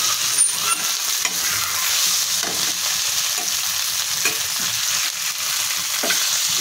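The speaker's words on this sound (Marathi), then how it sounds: "दोन्ही बाजूने आपल्याला ते छान फ्राय करून घ्यायचे।" Squid (makli) fries on a hot tawa with a continuous close sizzle and crackle, broken by the scrape and shuffle of pieces being stirred and turned. No one speaks.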